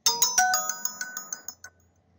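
A mobile phone text message notification tone, a short bright chiming melody of about ten descending and repeating notes, clear and close, then quiet.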